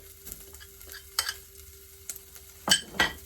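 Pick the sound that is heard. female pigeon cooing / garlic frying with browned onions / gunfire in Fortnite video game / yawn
garlic frying with browned onions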